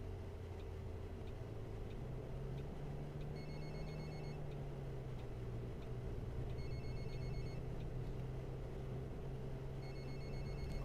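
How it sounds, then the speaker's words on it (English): A telephone rings faintly in repeated short trilling bursts over a steady engine drone inside a bus driving simulator game. "Oh, answer the damn phone."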